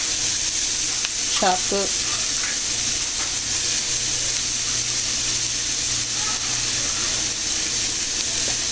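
Vegetables and garlic sauté in a pan for stuffed burgers, giving a steady close hiss and crackle of frying throughout, with a brief stir early on and a few words spoken.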